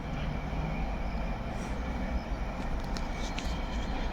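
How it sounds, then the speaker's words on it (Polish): A locomotive passes through Łowicz Główny station in Poland with a steady, heavy low drone and broadband roar that holds constant throughout, with no voices. "To jest lokomotywa chyba idzie."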